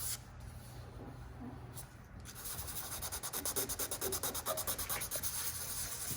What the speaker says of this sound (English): I'm just scuffing it barely